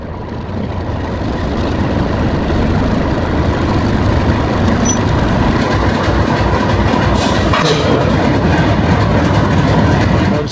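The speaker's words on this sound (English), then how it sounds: "Engine that just took us down the track, coming back into the machine shop here." Vintage train locomotive rolling into a machine shop, a loud continuous rumble with rhythmic clickety-clack of wheels on the rails and no talk.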